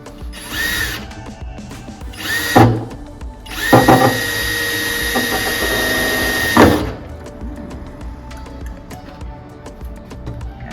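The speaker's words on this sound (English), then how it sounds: "so I can go ahead and drill these holes" A power drill bores holes for mounting a chopped tour pack on a 2021 Harley-Davidson Street Glide, with several short bursts of whining rotation followed by one longer, steady drilling run, close and loud, then quiet.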